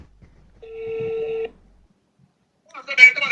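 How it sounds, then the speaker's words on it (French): The last digit of a phone number is keyed in, giving one clear, loud dial tone of under a second in a quiet room. A voice starts speaking shortly after. "je vais mettre le dernier numéro et puis je l'appelle"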